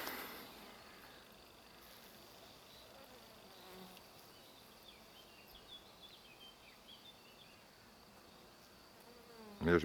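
A swarm of honey bees buzzes in a dense, steady drone, close and continuous, with faint chirps in the background and a brief handling noise at the very end.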